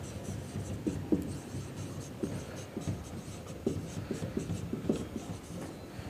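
Chalk or marker writing on a board during a physics class, a steady run of soft scratchy strokes with irregular taps, fairly close and alone without speech.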